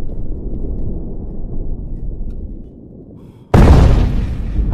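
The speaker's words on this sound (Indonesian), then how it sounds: "Dan tak lama kemudian, suara ledakan pun terdengar." Low rumbling quiet, then a sudden loud explosion destroying a bridge bursts in near the end, a sharp blast followed by a roaring, sustained wash of noise.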